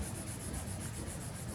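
Colored pencils blended on paper give a soft, steady rubbing scratch, faint and close, with a quick back-and-forth stroking texture and no speech.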